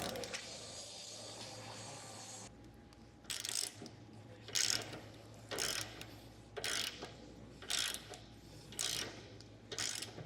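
A weight distribution hitch is adjusted with a tool, giving short bursts of mechanical ratcheting and clicking that repeat about every second after a quieter stretch, close by with a faint background hum.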